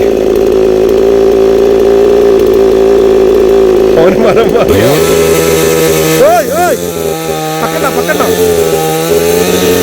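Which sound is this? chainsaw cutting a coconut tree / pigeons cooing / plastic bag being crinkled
chainsaw cutting a coconut tree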